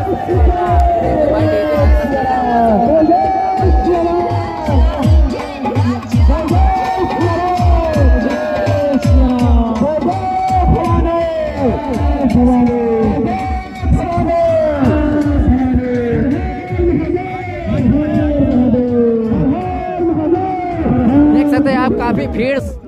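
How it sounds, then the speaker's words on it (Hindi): A large, dense crowd gathered along a street to see a statue of Shri Ram being brought in, with steady loud babble of many voices and occasional cheers and whoops throughout. "काफी भीड़ लग चुकी है जो कि स्टेचू को देखने के लिए"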